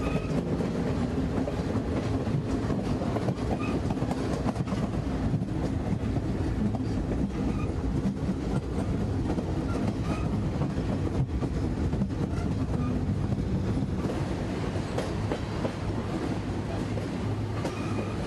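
Continuous rumble of the Napa Valley Wine Train moving along its tracks, with rhythmic clickety-clack of wheels on rail joints, loud and steady throughout.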